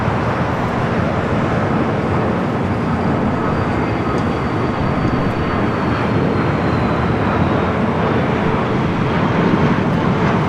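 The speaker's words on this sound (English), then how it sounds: "Cathay, the One World 777 about to make that turn onto Kilo." A Cathay Pacific Boeing 777 taxiing at LAX makes a loud, steady, broadband jet-engine rumble that holds evenly throughout, with a faint whine above it and no voices.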